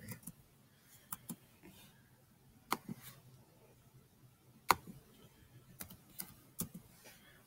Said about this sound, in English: A lot of clicking, right?